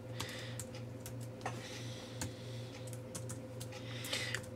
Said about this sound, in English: I'm sideways, so I'm kind of typing a little bit on the side here.